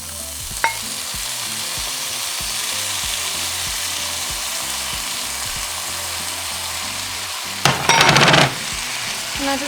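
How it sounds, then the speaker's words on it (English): Shredded beef and vegetables frying in a pan, with a steady broadband sizzle under low rhythmic scraping as the mixture is stirred, and a louder burst of clattering and sizzle near the end. "Now just mix it all together"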